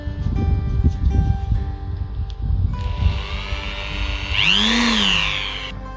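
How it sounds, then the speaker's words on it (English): A Dremel rotary tool rounds off small parts for a community model build. Rumbling, scraping handling noise comes first, then a high, thin motor whine that rises and dips in pitch for the final few seconds. "make them round using the Dremel"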